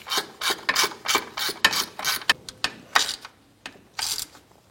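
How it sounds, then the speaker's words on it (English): A bolt being snugged down by hand with a ratchet, a rapid series of short rasping clicks in uneven bursts, close and crisp, with brief pauses between strokes and no talking. "Go ahead and snug this bolt down here."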